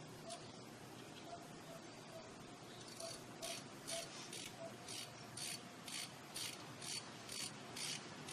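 A ratchet wrench tightens a hub stud bolt on an Isuzu Elf truck, its quick clicking strokes repeating in a steady rhythm, close and moderately loud over a low background hum.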